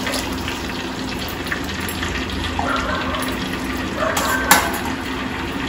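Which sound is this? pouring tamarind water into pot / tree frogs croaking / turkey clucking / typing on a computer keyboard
pouring tamarind water into pot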